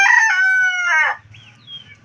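A young hen that has not yet learned to lay in a nest gives a loud, drawn-out squawking call up close, then falls to softer low clucks with faint chirps in the background.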